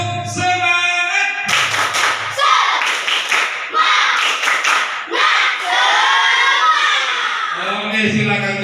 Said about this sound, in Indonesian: Jadi, tepuk semangat.